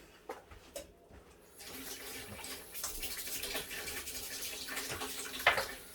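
Running tap water splashing over utensils being washed up in a home kitchen sink, a steady faint stream with occasional clinks and splashes.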